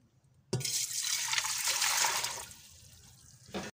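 Water poured into a pressure cooker while preparing a roast mutton leg, a steady splashing gush of about three seconds that eases off toward the end, close and clear with no talking.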